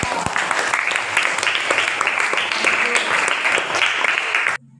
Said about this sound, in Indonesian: Ayo berikan aplaus kepada kelompok 3